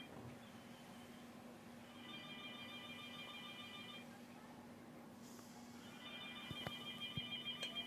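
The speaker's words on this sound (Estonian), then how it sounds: "kui telefon heliseb, nagu mida on praegu kuulda" A telephone rings in two bursts of bright, repeating electronic trills, separated by a pause, over a steady hum and low room noise at moderate distance.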